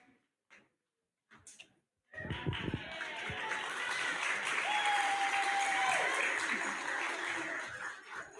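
Award-ceremony audience applauding winners at a school fine arts awards evening, a dense sustained wash of clapping starting after a brief quiet and continuing steadily with no voice over it.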